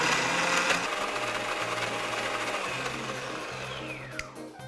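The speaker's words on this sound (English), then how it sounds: "Now we blend." A blender whirs loudly as it purées food with a splash of vinegar, a steady high motor drone that winds down near the end.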